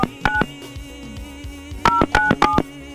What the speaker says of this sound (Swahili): mimi natupigia mtu simu na kataa kunichukulia simu